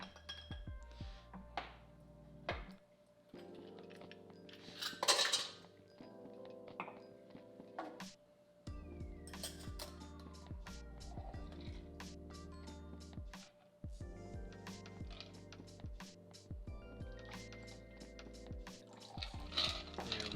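A bar spoon stirring a Crown Royal cocktail in a glass, a soft continuous swirl broken by light clinks and taps of metal on glass, close and quiet, with no one talking.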